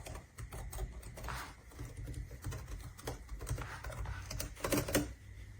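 Quiet, soft tapping on a ProtoArc EKM01 Plus wireless membrane keyboard, a steady patter of muted keystrokes with a slightly louder flurry near the end, heard alone and close.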